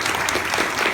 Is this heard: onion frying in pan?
no